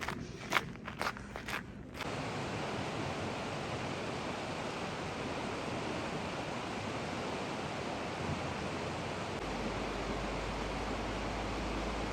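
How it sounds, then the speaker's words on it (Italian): The icy Boite mountain stream in the Dolomites rushes steadily below, a dense, even roar of flowing water after a few brief footsteps at the start. "Qua giù c'è il torrente Boite, acqua gelidissima, anche d'estate è fredda"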